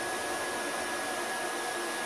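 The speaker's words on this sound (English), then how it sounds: "That's my air source, this hair dryer." A hair dryer blows air into a charcoal forge indoors, a steady loud broadband whoosh with a faint motor whine, constant and close for the whole stretch.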